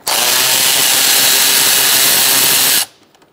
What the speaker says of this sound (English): we're going to take out these bolts